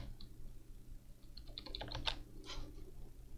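A computer keyboard being pressed, the W key used for movement while building a Snake game in GameMaker 2: a quiet cluster of soft key clicks and taps, close and alone with no voice.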